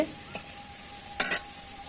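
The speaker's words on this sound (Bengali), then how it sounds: "আলুগুলো লাল লাল করে ভাজা হয়ে গেছে" Potato pieces that have fried to a reddish brown sizzle softly and steadily in a pan of oil. A couple of quick metallic scrapes from stirring stand out near the end.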